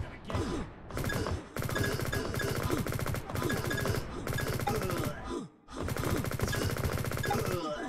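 Rapid SMG fire in the open-source FPS Liblast: long, dense automatic bursts rattle loudly and continuously, broken by a couple of brief pauses, with faint voice sounds underneath.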